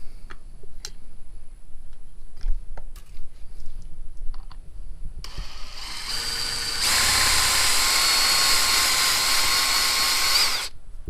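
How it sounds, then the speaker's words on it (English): Faint clicks and handling noises, then a power drill spins up and runs steadily for several seconds, drilling 3/16-inch rivet holes in a plate for a Silverado tail light fix, close by, before stopping. "I got to drill out the holes in here to accept a 3/16 rivet"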